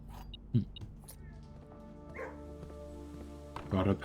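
A dog in the video game Blue Prince gives a few short barks and yips, fairly faint, over a low steady game soundtrack.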